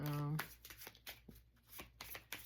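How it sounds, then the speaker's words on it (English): Oracle cards shuffled by hand, a run of quick papery riffles and slaps in uneven bursts after a brief tone at the start, close and fairly quiet. "I'm going to shuffle the self-care oracle."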